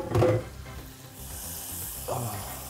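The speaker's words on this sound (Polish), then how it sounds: "Masło rozpuszczamy, następnie zestawimy i zalejemy e, mlekiem." Butter melting in a pan gives a soft, steady sizzle that rises into a brighter hiss partway through, with a brief rustle near the start.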